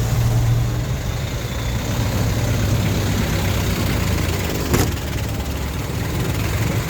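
A 1999 Mitsubishi Canter truck engine idles steadily up close, a constant low rumble with no one speaking over it.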